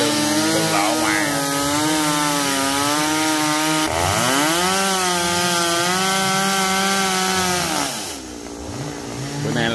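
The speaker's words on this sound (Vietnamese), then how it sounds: "Bữa nay là tiếng máy cưa là điếc lỗ tai luôn á." A loud chainsaw cuts down trees in a garden, its engine whining at high revs and rising and falling in pitch as it bites through the wood, close and continuous.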